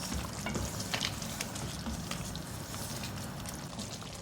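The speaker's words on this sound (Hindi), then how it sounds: "अब इसकी अच्छी सी भुनाई करूँगी" Mutton pieces roasting in hot oil in a karahi, a steady dense sizzle and crackle with occasional stirring scrapes, continuous and close throughout.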